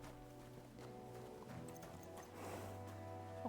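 In the medieval game Kingdom Come: Deliverance 2, a horse's hooves clip-clop at a steady walk close by over a low tonal hum, with no clear whinny standing out.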